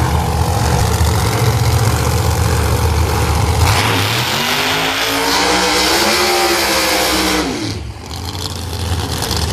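An Outlaw Pro Mod drag racing car, the blue car, sits at London Dragway with its engine loud and close, a thick, steady rumble that swells and rises in pitch midway before settling back.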